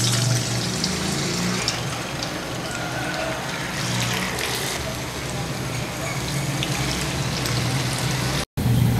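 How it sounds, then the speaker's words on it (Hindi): Potato lacha balls frying in hot oil, a dense steady sizzle and crackle that runs loud and close for the whole stretch, with a brief dropout near the end. "जब मैंने ये बॉल्स डाले थे ना ऑयल में तो ऑयल गर्म था"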